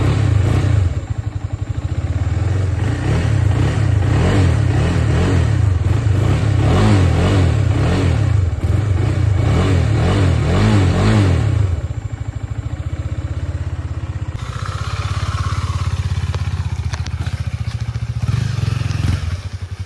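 A motorcycle engine revving loudly and close while riding, with rising and falling rev surges and mechanical clatter for about twelve seconds, then settling into a steadier, lower running drone with some rattle.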